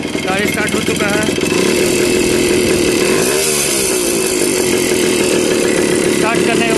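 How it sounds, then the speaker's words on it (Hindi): A TVS Max 100 motorcycle's small single-cylinder engine runs steadily just after starting, loud and close with a buzzing idle and a brief rev change midway. "देख सकते हैं गाड़ी स्टार्ट हो चुका है।"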